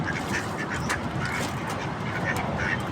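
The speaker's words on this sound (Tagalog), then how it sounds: "Tayo guys ay magpapakain ng mga bibe, alaga natin bibe." Several pet ducks quack repeatedly nearby on a rooftop at feeding time, short nasal calls overlapping against a busy, noisy outdoor background.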